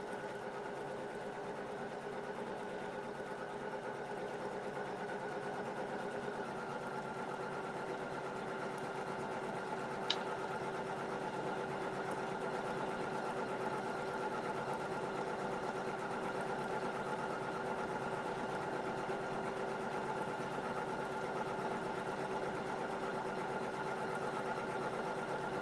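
A sewing machine hums in a faint, continuous whir that holds steady for a long stretch without pausing.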